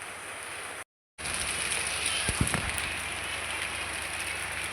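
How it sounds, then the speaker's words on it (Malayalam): Steady rain hisses across the whole recording, a dense broadband wash with a brief dropout early on and a few soft thuds near the middle. "നല്ല മഴ പെയ്യുന്നുണ്ട് കേട്ടോ"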